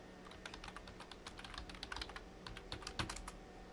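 Keys clatter in a quick, uneven burst of typing on a computer keyboard while a root password is entered at a Linux terminal, close and fairly quiet, with no talk.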